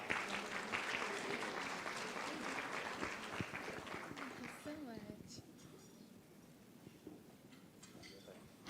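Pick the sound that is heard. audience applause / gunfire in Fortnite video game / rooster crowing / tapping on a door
audience applause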